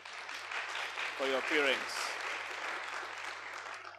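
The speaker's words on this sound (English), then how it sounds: "if you want to clap, clap" Audience applause at a medical laboratory science induction ceremony, a soft steady clapping wash in a large hall, with someone speaking briefly over it.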